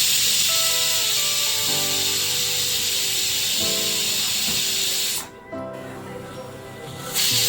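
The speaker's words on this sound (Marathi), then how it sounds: "परत 2-3 शिट्या काढूया चांगल्या." A pressure cooker cooking lapshi releases a loud, continuous rush of hissing steam close by, with a brief dip and pause before the hiss resumes.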